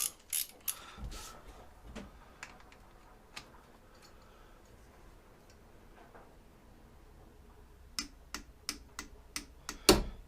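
Torque wrench tightening the sump plug of a 2016 Honda CRF250L to 25 Nm, sparse close ratchet clicks at first, then a quick burst of clicks toward the end, quiet between.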